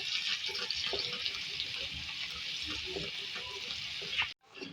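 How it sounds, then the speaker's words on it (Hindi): White cumin seeds frying with onions and green chilies in a pan for aloo bhaji give a steady, close sizzle that holds for several seconds, then cuts off abruptly near the end. "अब इसको भी हम जो है वो फ्राई करेंगे।"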